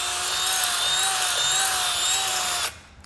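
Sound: power drill reaming a hole in scrap metal

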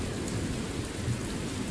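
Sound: rain in the video game Ranger Danger

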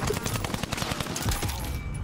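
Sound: gunfire in the video game Warzone

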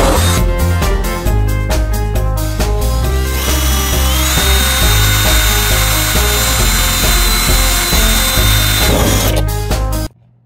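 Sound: power drill drilling through a car hood

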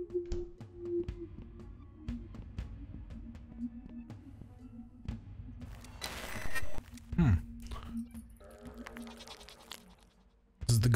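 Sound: goat bleating in the video game Sally Face

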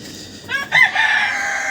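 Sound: rooster crowing

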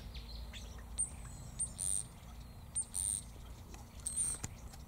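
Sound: Rosella parrots calling in Acacia pendula tree

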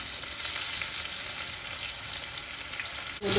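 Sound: chopped onions frying in hot oil in a kadai

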